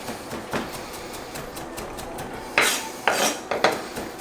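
A knife blade presses and smashes garlic cloves flat on a cutting board, giving a few sharp clacks and scrapes of metal against the board, close and isolated, with quiet pauses between hits.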